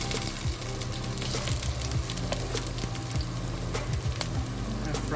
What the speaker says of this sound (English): We put a little ginger to it to see if the oil is ready.